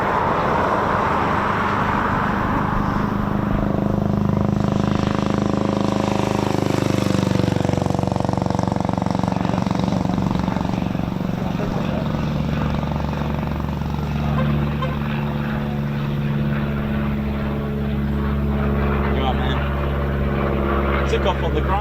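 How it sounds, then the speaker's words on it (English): A Eurofighter Typhoon FGR4 jet making a touch-and-go landing at RAF Coningsby: a loud, steady engine roar that swells and holds throughout, with people talking over it. "We may get a landing on there, touch and go."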